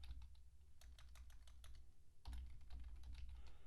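Rapid typing on a computer keyboard, a steady run of close, light key clicks with a brief pause partway, over a low background hum and no talking.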